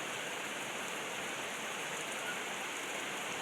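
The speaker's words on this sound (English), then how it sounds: "Rain is harder." Heavy rain pours down in Connecticut, a loud, dense and constant hiss of falling water that never lets up, with no voices heard.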